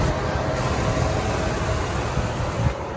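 A 2005 Dodge Ram 1500 Daytona with a 5.7 liter V8 Magnum Hemi idles close by, a loud, steady low rumble with no one talking.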